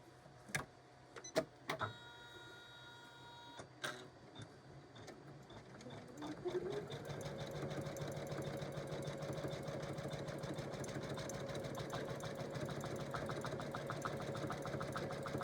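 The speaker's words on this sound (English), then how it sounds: "So I have my machine all set up for this." An embroidery sewing machine working on an in-the-hoop appliqué quilt block starts after a few clicks and beeps, then settles into a steady rapid mechanical stitching whir, close and continuous.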